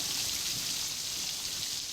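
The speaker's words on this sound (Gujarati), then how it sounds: "સાવરકુંડલા પંથકમાં પણ વરસાદ વરસ્યો છે." Steady rain falls on waterlogged farm fields in the Savarkundla area of Gujarat, a dense, even hiss of drops with no voices, continuous throughout.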